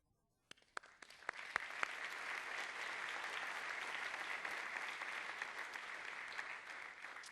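Applause from the audience at a Young Floridian scholarship award ceremony, starting with a few scattered claps and swelling into sustained, even clapping from many hands that continues to the end.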